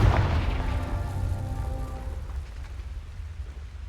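The Confringo blasting spell in Hogwarts Legacy goes off as a heavy, booming blast with a low rumbling tail that fades over a few seconds, heard alone without speech.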